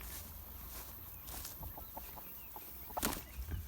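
Chickens on a farm cluck softly in short bursts against faint background noise, with a sharper squawk near the end.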